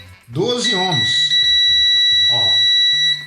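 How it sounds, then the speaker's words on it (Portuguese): A multimeter gives a continuous, steady beep while probing a shorted 3.3 V rail on a faulty ATX computer power supply. The tone holds unbroken under someone speaking nearby. "Temos um bip contínuo. Bom, parece estar em curto."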